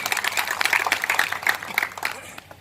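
A crowd at a political workers' gathering in Aurangabad applauds MP Imtiaz Jaleel as he is called to the stage, a short burst of mixed clapping and crowd noise with a faint voice underneath.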